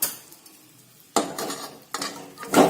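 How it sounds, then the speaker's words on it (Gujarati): Spoon stirring melting jaggery in a kadai over low gas, with a few distinct scraping strokes against the pan separated by quiet gaps and faint sizzling. "આ રીતે મિક્સ કરીશું."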